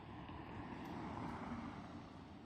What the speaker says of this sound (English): I got an APU on this truck, in which it's running right now.